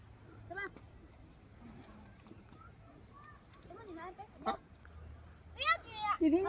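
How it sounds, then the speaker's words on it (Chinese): Ducklings swim on the lake at Xiliu Lake Park in Zhengzhou, China. They give faint, scattered quacking calls, and a brighter burst of calls comes near the end, mixed in with nearby people talking. "小鸭子。"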